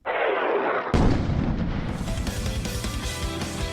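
A loud bomb explosion sound effect: a rushing whoosh builds, then a heavy blast hits and rolls into a long, rumbling, crackling decay.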